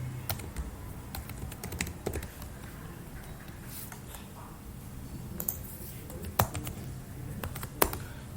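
Steady typing on a computer keyboard while writing code, quick irregular clicks and taps, close and fairly quiet, with a few sharper louder keystrokes and no talking.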